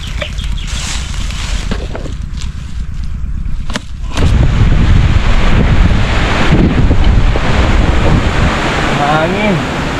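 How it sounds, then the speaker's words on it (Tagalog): Loud wind buffeting the microphone, a low rushing roar that grows stronger after a few seconds and stays steady, with no voices. "Hangin."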